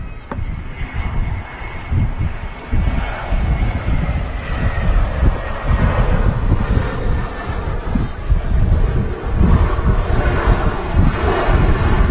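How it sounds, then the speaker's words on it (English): An EasyJet Airbus A319 arriving at Manchester Airport roars steadily from nearby, a broad continuous jet rumble with some wind buffeting the microphone throughout. "the EasyJet A319 is the last arrival before the King of the Skies touches down"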